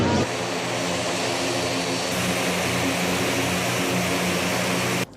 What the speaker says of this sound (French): L'avion militaire fait un trajet d'1h30 avant d'atterrir à Kédougou.